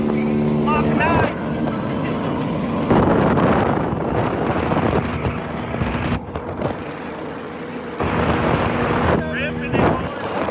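2019 XRX Trailmaster 300 go-kart engine on a downhill top-speed run in the woods, loud steady drone buffeted by heavy wind rush, rising and dipping in pitch as it rips along.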